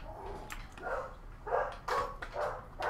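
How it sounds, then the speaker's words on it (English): Dog barking downstairs in a basement, several muffled, distant barks in an uneven rhythm, faint but distinct against a quiet room. "my dog is downstairs in the basement barking because he's really good at that"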